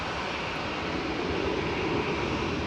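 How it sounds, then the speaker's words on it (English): Continuous broadband roar of an EasyJet Airbus A320 Classic jet lining up for departure at Manchester Airport, steady and fairly loud throughout. "the noisy EasyJet that's been waiting on uniform to depart"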